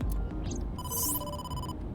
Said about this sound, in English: I am receiving a call from headquarters.